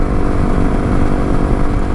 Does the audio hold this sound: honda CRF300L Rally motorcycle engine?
yes